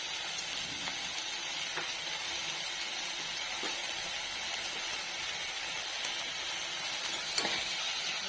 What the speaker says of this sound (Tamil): நல்லா தக்காளி நல்லா வதங்கட்டும் கொஞ்சமாக உப்பு போட்டால் கொஞ்சம் சீக்கிரம் வதங்கிடும்